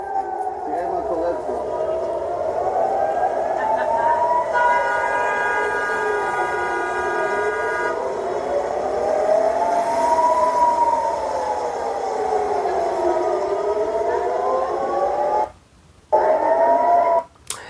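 An air raid siren wails in Israel during an attack, its pitch rising and falling in slow, loud, sustained cycles, with brief cutouts near the end.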